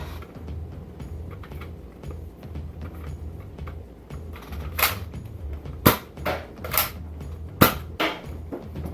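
Several sharp dart shots from an X-Shot Reflex 6 toy blaster, sounding as distinct snappy pops in an irregular burst over a low background hum, the firing grouped near the end.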